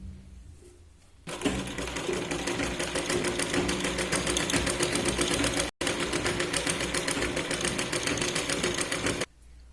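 A sewing machine runs in a fast, steady mechanical rattle while stitching a blouse neckline to its lining, starting after a quiet moment and continuing close and loud with one brief stop before easing off.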